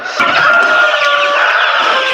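Sonali super hybrid chickens in a poultry farm cluck and crow together in a loud, continuous flock chorus, with many overlapping calls and no talk.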